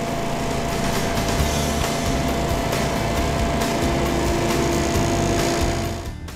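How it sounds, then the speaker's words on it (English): An engine-driven smoke blower runs steadily during a sewer smoke test, a loud continuous small-engine drone with a high whine that holds level for about six seconds before tapering off at the end. "with the smoke blowers."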